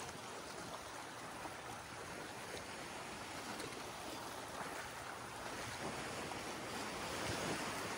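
Steady rush of ocean surf at Boracay Island with wind noise, a continuous roar of big breaking waves close by, no voices.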